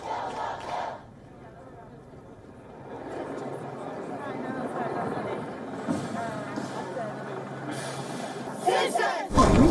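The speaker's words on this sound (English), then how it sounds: "The crowds gathered in London's Parliament Square to protest the police response." A protest crowd fills London's Parliament Square, its dense, sustained chanting and shouting rising and falling over several seconds before a louder surge at the end.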